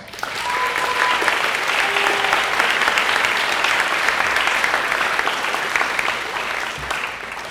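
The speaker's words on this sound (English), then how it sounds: "Let's give them one more round of applause." An audience at a senior banquet gives a sustained, even round of applause for the teachers, loud and close, with faint voices mixed in.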